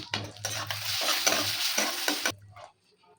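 Whole garam masala and two bay leaves hit hot oil, left from frying fish for a prawn malai curry, and give a loud, steady close sizzle for about two seconds that cuts off sharply, leaving quiet clatter.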